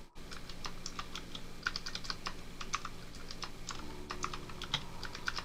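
Fingers tap quickly on a computer keyboard, with a steady stream of light, crisp key clicks and a few louder strokes, close and fairly quiet.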